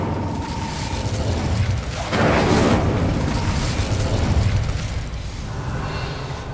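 Casting the Incendio fire spell in Hogwarts Legacy on PS5 produces a loud whooshing, roaring burst of flame that swells and holds for a few seconds before fading, with mechanical clanks in the background and no talking.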